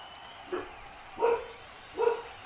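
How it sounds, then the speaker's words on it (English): A dog gives three separate barks spaced about a second apart, muffled and at moderate distance, over a quiet room background with no talk. "my dog is barking at something"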